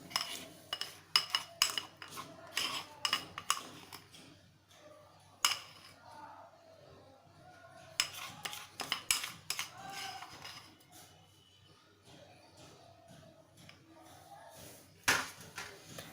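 A spoon scrapes and clinks against a mug and bowl while cake batter is transferred, making intermittent light metallic taps and scrapes at close range.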